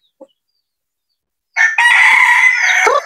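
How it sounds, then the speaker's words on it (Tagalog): A rooster crows loudly and close by among many chickens, one long strained call after a short faint cluck and near silence, with no talking. "Ang daming manok."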